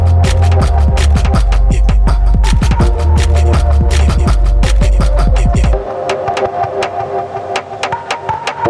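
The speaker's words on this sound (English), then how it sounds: "we use all three of the samples of my shoestring bass" Shoestring bass sample in FL Studio for a Jersey Club remix: a loud, sustained deep bass under a rapid rhythmic beat, then the bass drops out, leaving lighter percussive hits.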